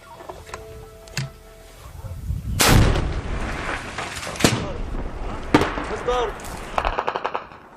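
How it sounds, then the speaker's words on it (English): Heavy weapons firing in a battle in Homs: loud, close booming blasts at irregular intervals, followed by a quick burst of rapid gunfire near the end. "They're to start it by firing the heaviest weapons in their arsenal, even though they have just 2 of them."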